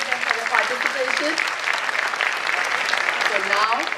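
An auditorium audience applauds nursery children after their performance at a pre-primary annual programme, with steady, dense clapping lasting throughout and voices mixed in beneath.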